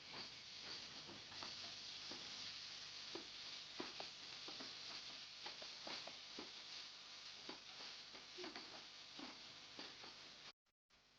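Capsicum frying in a pan for paneer bhurji gives a soft, steady sizzle and hiss, with faint scattered ticks from stirring, fairly quiet and without voices.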